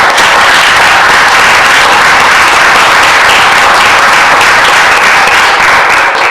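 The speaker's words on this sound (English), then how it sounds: "So please, let's give them a round of applause." Audience at a town council meeting giving a loud, dense round of applause for award recipients, sustained and even for the whole stretch, with no one speaking.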